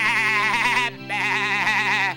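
A voice imitates sheep bleating in a comic song, giving two drawn-out, wavering bleats separated by a short pause, loud and close.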